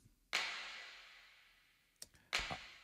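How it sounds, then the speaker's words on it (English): A clap sample drenched in long reverb, two sharp claps each trailing into a long fading wash, with a softer click between them, fairly quiet and alone. "One more thing we can do is the clap with the long reverb,"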